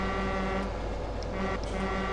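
A modded John Deere tractor horn in Farming Simulator 17 gives a deep, steady, train-like blast that holds for about two seconds at a constant level.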